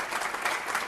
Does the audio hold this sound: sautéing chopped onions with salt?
no